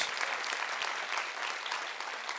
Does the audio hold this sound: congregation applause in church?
yes